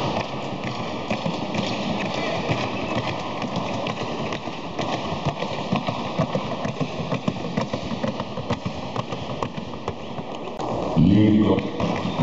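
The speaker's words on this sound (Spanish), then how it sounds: "Bueno, los caballos." Horses of the trocha galope and trocha gait move at a show, a busy, steady patter of hoofbeats under a constant hum and crowd noise, with people talking throughout.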